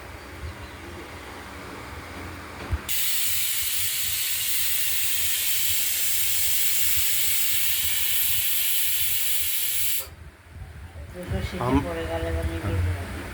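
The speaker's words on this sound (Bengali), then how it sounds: "প্রথম অবস্থায় 2টো সিটি আমরা দেব, তারপর নামিয়ে দিয়ে 10 মিনিট রেখে দেবো।" A pressure cooker cooking masoor dal lets out a loud, continuous hissing whistle of steam for about seven seconds, then cuts off abruptly. A voice follows afterward.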